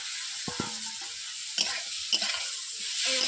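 Kohlrabi being stirred in a hot frying pan, a steady low sizzle with a few scraping clicks of the spoon at intervals, close and fairly quiet.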